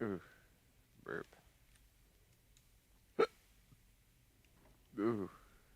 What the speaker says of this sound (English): Ooh, burp.